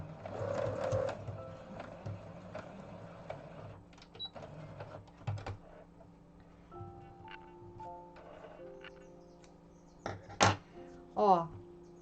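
Sewing machine running in short bursts while stitching a pleat of four small folds on doll dress sleeve fabric, with a rattling whir near and clear, pauses between runs and a few sharp clicks near the end.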